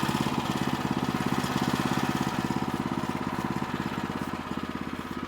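A sawmill engine runs steadily before a half-inch cut into flawed wood, its rapid regular putter close and even throughout with no voices.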